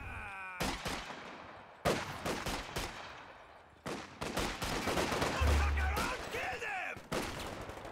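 Machine gun fire and other gunshots crackle in a Company of Heroes 2 1v1 match of Ostheer against US forces, coming as loud, dense bursts that stop and restart several times, with battle noise layered throughout.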